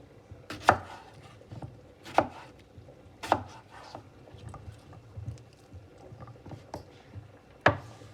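A kitchen knife chops through washed, scrubbed, unpeeled potatoes, cutting them into coarse chunks. Several sharp cuts land on a board at an uneven pace, near and distinct, with quiet handling between them and no talking.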